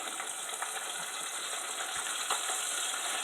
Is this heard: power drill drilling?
no